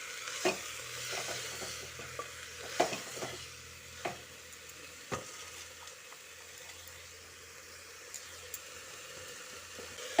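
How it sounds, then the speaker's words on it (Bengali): Cabbage being stirred and fried with potatoes and peas in a pan for a vegetarian cabbage ghonto, a steady sizzle with repeated scraping stir strokes and occasional sharp spoon knocks, close and moderately quiet. "বাঁধাকপিটা আগে অল্প অল্প করে দিয়ে মিশিয়ে নিচ্ছি"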